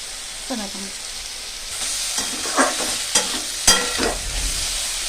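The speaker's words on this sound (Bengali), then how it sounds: "মশলাটা ভাজা হয়ে যায়" Ground spices including cumin powder frying in a pan, a soft steady sizzle broken by several sharp spatula scrapes and clacks against the metal, no talking.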